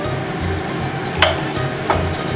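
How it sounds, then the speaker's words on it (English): Premio sausage sizzles in a hot pan while a utensil scrapes and stirs, breaking it up, with two sharp scraping strokes over a constant close frying hiss. "Now let's throw the sausage and we're going to break it over."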